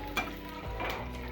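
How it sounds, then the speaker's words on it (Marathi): Onion sizzles and crackles steadily as it fries in a pan on a home stove, with a brief stirring scrape, close and unbroken by talk. "आपलं कांदा सुद्धा भाजते चांगला मस्तपैकी"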